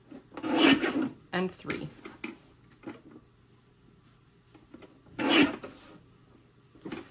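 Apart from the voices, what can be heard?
trimming scored cardstock strips for cards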